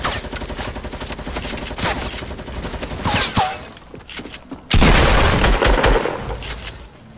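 Rapid automatic gunfire from a Fortnite-style shooter game, a steady stream of close, loud shots that pauses briefly and then erupts into a heavier, sustained burst, with a few spoken words mixed in.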